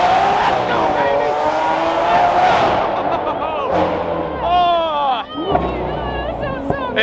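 A 1600hp Nissan GTR roars loudly nearby with tire squeal and skidding, the engine howl rising and falling while people talk and cheer over it.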